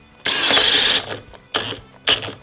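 A STARK CD 18-2 B cordless drill runs at second speed: one long whirring burst followed by two short stalling bursts, loud and close, with no voices.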